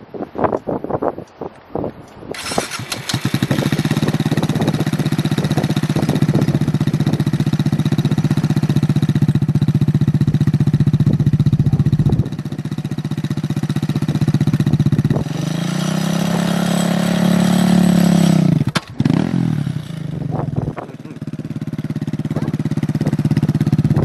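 A motorcycle engine idles with a steady drone during a riding lesson, rising and falling as the throttle is worked about two-thirds through, under heavy wind buffeting the microphone.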